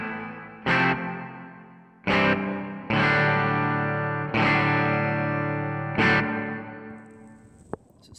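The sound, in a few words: hall reverb on guitar, TC Electronic Hall of Fame pedal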